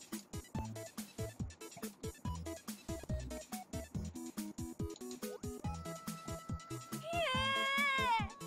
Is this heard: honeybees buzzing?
no